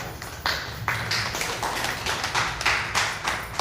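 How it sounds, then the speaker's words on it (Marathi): A room of people at a ceremony applauds, many hands clapping in a dense, even patter, nearby and fairly loud, with no talking. "टाळ्या."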